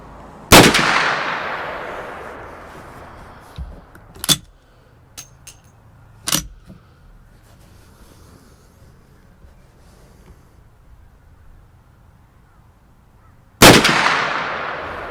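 An 1873 Winchester rifle fires .357 Magnum rounds outdoors at 200-yard targets. Two loud, sharp reports with long echoing tails land about thirteen seconds apart, and faint clicks and knocks come between them.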